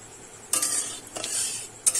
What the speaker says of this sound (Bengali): একটুখানি আমি নেড়ে চেড়ে ফোড়নটা ভেজে নেব